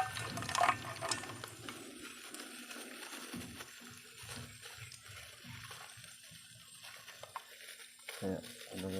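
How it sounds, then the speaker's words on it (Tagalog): Soy sauce poured onto sun-cooked food, a liquid trickle and splash at close range with brief clinks, fairly quiet and steady. "maglalagay pa tayo ng toyo"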